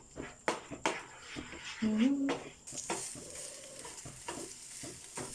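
Egg for spicy Indian-style macaroni is stirred in a pan, with scraping spoon strokes and clinks over a light sizzle and a few brief vocal sounds.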